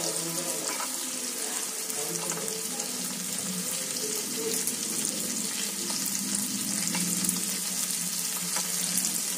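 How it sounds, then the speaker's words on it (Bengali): Green beans tossed and stirred in a hot frying pan, giving a steady close sizzle with scraping stir strokes and faint watery clatter, no talking. "এবার বিনসটা দিয়ে একটুখানি আগে নেড়ে নিই"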